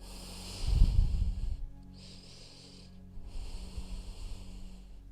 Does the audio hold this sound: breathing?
yes